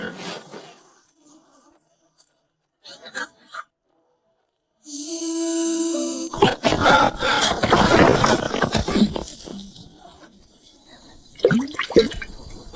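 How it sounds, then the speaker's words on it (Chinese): Water sloshes inside a strange old pot as it is shaken, an anime sound effect: a quiet start with faint brief sounds, then several seconds of loud, irregular, churning slosh bursts that ease off, with short vocal sounds near the end. "摇起来有水声，倒不出任何东西"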